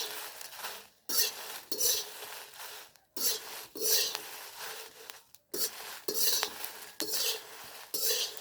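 Chilies roasting in a pan, about two kilos, stirred with a utensil in repeated scraping strokes over a soft sizzle, rhythmic bursts separated by short pauses, close and clear.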